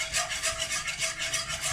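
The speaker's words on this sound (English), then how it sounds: "you just keep whisking and whisking" Flour and butter are whisked together for a mac and cheese sauce, a quick, rhythmic scraping swish of the whisk against the pan, repeating evenly and fairly quietly.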